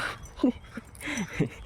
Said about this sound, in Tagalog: Asong ligaw.